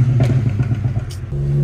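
Remapped VW Up TSI engine revving hard up close, a loud, steady buzzing roar with rapid rises and falls before settling into a sustained high idle-rev drone.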